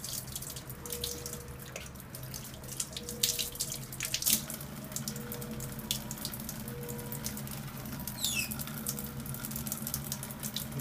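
Hands being washed under a running tap in a hospital newborn unit, a steady close stream of water with splashing and dripping that rises and falls as the hands move.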